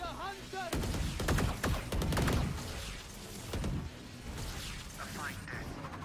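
Gunfire in the tactical shooter Valorant sounds as sharp, repeated shots and bursts at moderate level, mixed with game effects and background activity.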